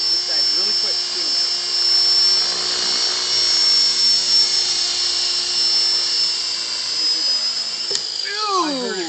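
A Walkera V400D02 radio-controlled helicopter whines steadily with a high, sustained motor and rotor tone close by, brief chirps near the end, while people talk in the background.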